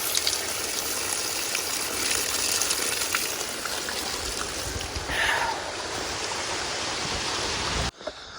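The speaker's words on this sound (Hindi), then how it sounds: "वो रहा वाटरफॉल, ये पानी, सब लोग यहाँ से पानी पीते हैं" Rushing water from a mountain waterfall and stream near Malana village fills the scene with a loud, steady roar that stays close and constant before cutting off near the end.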